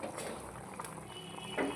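Tamarind gravy (pulusu) simmering in a pot with punugulu fritters, giving a steady low bubbling wash, faint and continuous, with a slightly louder gurgle near the end.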